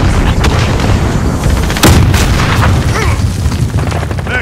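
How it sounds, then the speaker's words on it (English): A grenade goes off in Call of Duty: Modern Warfare multiplayer on the Shoot House map, one sharp, loud blast near the middle inside a constant roar of heavy gunfire and battle noise. "Throwing grenades!"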